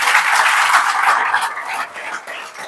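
An audience of students at a motivational lecture claps loudly, a thick burst of applause that thins and fades slightly toward the end.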